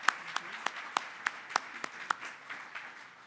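Audience applause at the opening session of a security conference, a spread of claps with several sharper individual hand claps standing out at a steady pace, moderately loud, tapering slightly toward the end.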